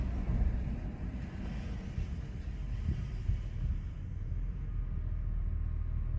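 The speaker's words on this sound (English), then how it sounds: "The idle is very nice in this car. It's very smooth, no rough idle at all." Mercedes-Benz W140 S420 V8 engine idling, a quiet, smooth low hum and rumble heard from inside the car, steady throughout with no voices.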